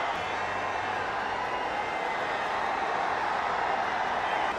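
Cricket stadium crowd at a T20 match between India and Sri Lanka, celebrating a wicket by Bumrah: a steady, dense roar of cheering that holds level throughout.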